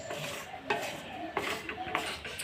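Gram flour being stirred and dry-roasted in a pan for besan laddu, heard as a soft, steady scraping with a few sharper knocks of the spoon against the metal, close by and with no voice.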